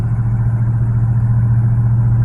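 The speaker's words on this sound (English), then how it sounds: "The exhaust is loud." A 1968 Mercury Park Lane Brougham with an aftermarket exhaust rumbles at a steady idle, a loud, deep, continuous drone held close and unbroken with no talking.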